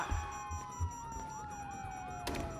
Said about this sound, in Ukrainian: вони чують сирену